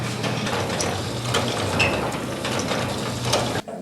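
An old electric locomotive-style washing machine churns, its mechanism grinding and clanking steadily as it pushes clothes back and forth in its chamber. The sound is close, loud and continuous, and it cuts off abruptly near the end.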